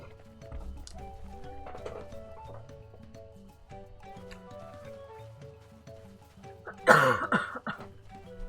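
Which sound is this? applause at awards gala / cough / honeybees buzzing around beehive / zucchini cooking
cough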